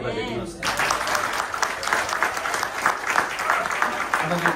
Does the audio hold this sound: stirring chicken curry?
no